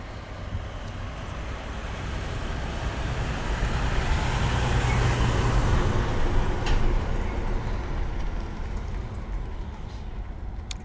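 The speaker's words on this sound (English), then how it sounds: "Got a truck coming." A truck passing on a road at night, a broad roar that builds, peaks midway and fades away again, heard alone without talk.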